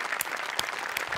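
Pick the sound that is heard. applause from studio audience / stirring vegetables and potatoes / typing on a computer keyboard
applause from studio audience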